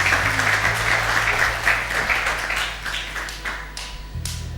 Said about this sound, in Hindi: बहुत सारी तालियां इनके लिए, बहुत सारी तालियां।